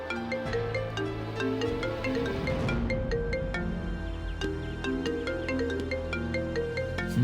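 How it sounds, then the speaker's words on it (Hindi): A phone ringtone plays a repeating electronic melody, clear and steady throughout with no voices. "किसका फोन है?"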